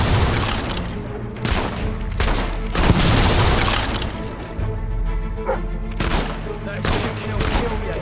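Gunfire in Fable 3 rings out as a loud, chaotic volley of shots and crashing impacts, with bursts of battle clatter rising and falling across the scene.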